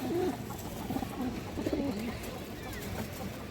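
A pair of Sapchila pigeons coo softly in a low, repeated series of throaty calls, close but quiet against steady background noise.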